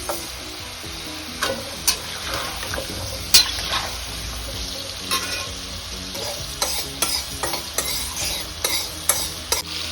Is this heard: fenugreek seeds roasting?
yes